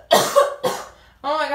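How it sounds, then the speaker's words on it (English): Two harsh coughs close to the microphone, followed by a short voiced sound, from someone reacting to the smell of a cleaning product indoors. "you guys can hear me coughing"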